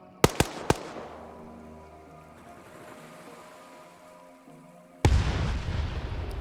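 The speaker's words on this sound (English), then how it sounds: "Heard the tank fire again." Heavy tank cannon shots boom three times in quick succession during a video game PvP match, followed by a long rumbling decay and then a second loud blast that keeps roaring.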